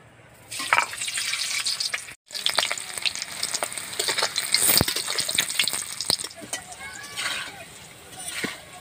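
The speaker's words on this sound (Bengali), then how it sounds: "এই তেলে আলুটাকেও ভেজে নেব" Potatoes fry in the oil left from browning onions for a homemade chicken biryani. A lively, crackling sizzle rises after a quiet start, with stirring scrapes and a brief pause, and a voice speaks at times.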